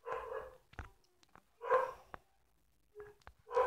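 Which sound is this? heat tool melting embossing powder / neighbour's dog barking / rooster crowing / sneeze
neighbour's dog barking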